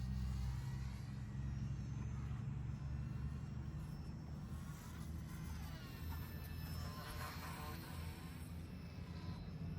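A Volantex 500mm P-51 RC plane flies at three-quarter throttle on its maiden flight, a steady buzzing motor drone with a low, even rumble that holds throughout, without speech.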